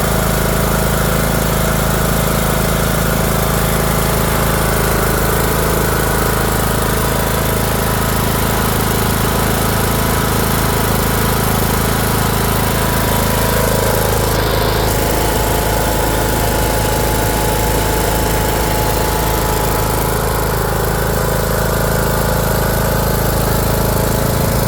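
A Briggs and Stratton engine on a Troy Bilt Bronco 42 riding tractor runs loud and close, a constant dense mechanical drone with a buzzing vibration that holds unchanged throughout.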